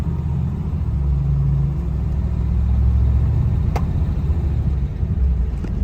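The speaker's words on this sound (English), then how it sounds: "I'm going to take this 1971 Chevrolet Camaro for a test drive and see how it does." A 1971 Chevrolet Camaro RS SS 396 V8 on a test drive, its deep engine rumble droning steadily and loudly throughout, with a brief sharp click partway through.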